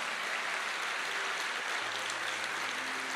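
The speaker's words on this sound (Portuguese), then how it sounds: "vamos aplaudir ao Senhor." A church congregation applauding during a sermon, a steady, moderately distant wash of clapping with a faint low tone underneath.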